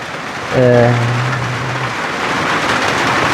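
Rain falling in a steady, broadband hiss that continues throughout, with a person's voice briefly heard early on over the downpour.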